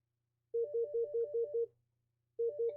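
A phone ringtone plays a fast pulsing electronic trill, one run of about seven beeps, a short pause, then it starts again; clear and close with no voices.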